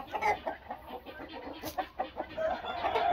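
Several chickens and roosters cluck and squawk close by in a busy, overlapping chatter, with rhythmic bursts of clucking throughout, on a farm.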